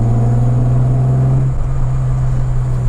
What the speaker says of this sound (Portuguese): Esse som do V6 Mazda, vou te falar, viu?